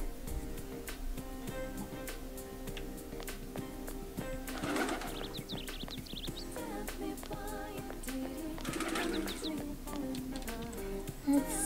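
Pigeons coo repeatedly in the video game Persona 4 Golden, soft rolling calls layered over steady game background music with ticking clicks, at moderate loudness and with no speech.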